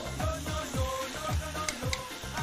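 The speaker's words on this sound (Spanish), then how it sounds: "Le vamos a poner entonces acá el huevo." An egg goes into a sizzling pan for revuelto gramajo with ham, and a steady crackling fry runs throughout, broken by a few sharp ticks and a rhythmic low pulsing.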